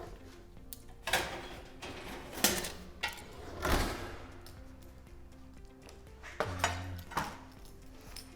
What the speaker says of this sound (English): I'll grab it out of the oven